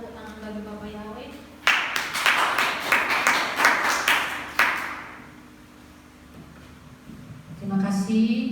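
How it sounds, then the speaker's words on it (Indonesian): A church congregation breaks into a short burst of applause, with a few sharp claps rising over the group before it fades, bracketed by speech before and after. "berikan tepuk tangan bagi Bapak Yahweh."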